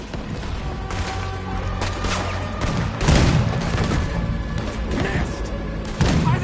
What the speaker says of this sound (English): Why the hell did we put Morgan on the cannon?